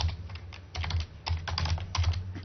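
Close, quiet typing on a computer keyboard, quick irregular clusters of key clicks with short pauses between bursts, heard alone without talk.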